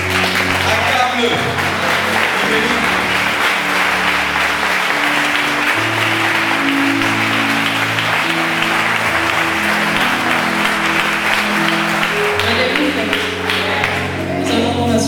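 A church congregation at a Sunday service claps and cheers continuously and loudly in praise of God, a dense roar of applause with voices and music blended throughout.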